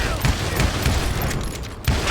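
Gunfire in the Western shooter Call of Juarez: Gunslinger, a loud dense run of shots and booms with repeated sharp bursts, under in-game voices.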